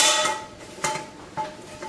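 Metal frying pan handled in a kitchen before making an omelette, giving a few sharp clanks and scraping knocks spaced apart, fairly close and moderately loud with no talk.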